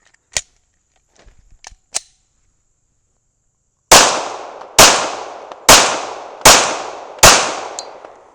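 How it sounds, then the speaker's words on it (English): Five 9mm pistol shots of Blazer Brass factory ammunition fired in an even, rapid rhythm, each a loud close crack with a short decaying ring, preceded by a few small handling clicks. "Here's a quick 5 rounds of Blazer brass factory ammo."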